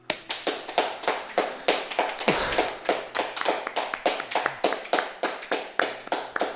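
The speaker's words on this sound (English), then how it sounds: "I have to clap as well" Steady rhythmic hand clapping, close and loud, a long run of sharp claps with a brief thump in the middle.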